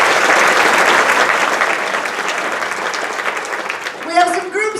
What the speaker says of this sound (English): Give all our sponsors a hand.